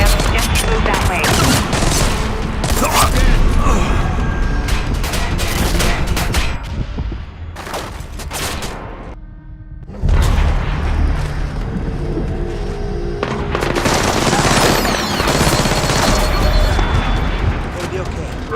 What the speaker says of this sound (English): We're hearing small arms fire in the terminal